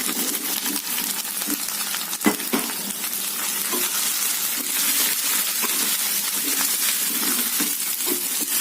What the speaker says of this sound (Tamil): இப்போ இஞ்சி பூண்டு பேஸ்ட் போடுறேங்க இஞ்சி பூண்டு பேஸ்ட் போட்டு கிண்டிட்டு